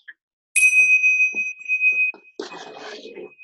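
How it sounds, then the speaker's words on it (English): A bell is struck once, its clear ringing tone sustained and slowly fading for about a second and a half, followed by a voice speaking. "Your bell is officially rung."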